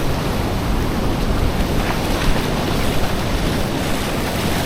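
Shallow ocean waves wash in on a New Zealand beach as a constant loud hiss and roar of surf, mixed with wind noise against the microphone, steady for several seconds with no voices.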